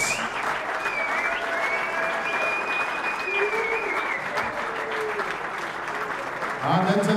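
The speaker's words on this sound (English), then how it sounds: "A round of applause," Sustained audience applause fills a darts tournament stage at the Czech Open 2017, a dense steady clatter of many hands that swells slightly near the end, with an announcer's voice carrying over it.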